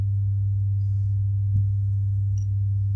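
A steady low 99 hertz test tone hums through a subwoofer at one pitch throughout, loud and unchanging, with a faint click and a brief chirp near the end.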